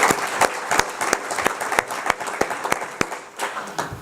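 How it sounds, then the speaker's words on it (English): A dinner audience applauds the London mayor with steady, lively clapping, individual claps standing out in a dense, continuous patter throughout. "I think he deserves all our applause"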